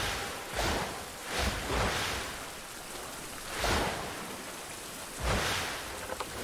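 Rain falls in a survival video game, a soft steady hiss broken by periodic washing surges, with no voices.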